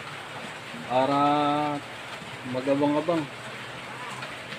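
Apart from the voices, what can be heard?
heavy rain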